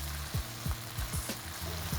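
Crispy chilli baby corn with spring onions is tossed in a pan over a high flame, a loud sizzle broken by about six rhythmic clattering tosses.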